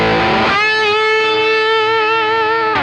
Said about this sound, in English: then I needed like a ripping lead tone.